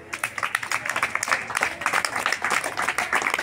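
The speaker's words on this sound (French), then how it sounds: "Merci, applaudissez Noura." Applause from an audience of children and adults for a young girl at a school event, a steady dense patter of clapping that carries on throughout without a break.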